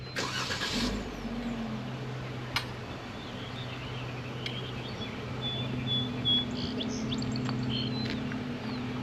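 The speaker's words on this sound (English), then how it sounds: "Let me turn the Jeep around there." Jeep idling and turning around outdoors, a steady low engine hum throughout at moderate distance, with a brief clunk early on and faint birdsong over the top.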